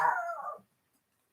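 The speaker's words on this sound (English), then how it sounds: "stop barking" A dog in a home garden gives a short whimpering bark, close and fairly loud, lasting about half a second before falling silent.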